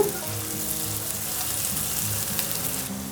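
Onions already browned to gold fry in a pan with freshly added tender tamarind leaves, giving a steady even sizzle with a low hum beneath and no talking.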